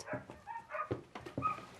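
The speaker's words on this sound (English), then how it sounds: "please go and quiet the dogs" Dogs give a string of short, faint yips and whimpering barks in an irregular rhythm, heard somewhat distant and quiet.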